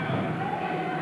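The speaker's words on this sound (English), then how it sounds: "Big crowd here at the Wembley Bowl making a lot of noise." Roaring crowd at a 1998 British Basketball League game between London Towers and Birmingham Bullets in Wembley arena, a steady dense wall of voices with no pauses.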